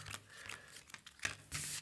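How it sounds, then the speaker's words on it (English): Cards from a Flamme Rouge cycling board game deck being shuffled by hand: quick papery riffling bursts, a few short rustles followed by a louder sustained burst at the end, close and fairly faint, with no talking. "I now have to shuffle this deck and put them back underneath."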